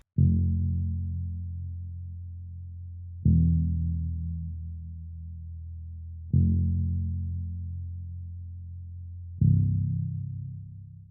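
A deep synth bass in a beat plays four long sustained notes, each starting with a firm attack and slowly fading, alone and fairly loud.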